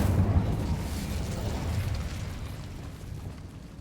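Incendio fire spell cast in the Hogwarts Legacy video game, a sustained roaring burst with a heavy low rumble that slowly fades over several seconds.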